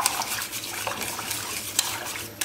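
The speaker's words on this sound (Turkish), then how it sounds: "Karıştırıyorum." A spoon stirs soup with added milk in a pot, giving soft liquid swishes and small metallic clinks against the pot in a steady rhythm, close up with no talking.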